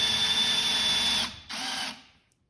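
Milwaukee M12 installation driver running at speed 2, a loud steady motor whine that cuts off, then a second shorter burst that winds down to silence.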